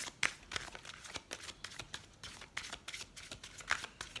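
Chakra oracle cards are shuffled over and over, giving a quiet run of quick papery riffles and flicks in an uneven rhythm, close and soft, with no talking.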